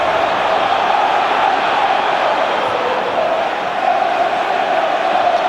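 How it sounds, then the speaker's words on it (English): Everton fans fill a football stadium with loud, sustained crowd roar and chanting during an FA Cup quarter-final, a dense continuous wash of voices. "The crowd are lifted."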